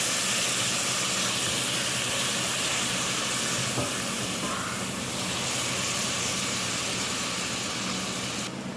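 Shrimp sautéing with garlic and onion in a pan, a steady loud sizzling hiss that runs unbroken throughout, close up.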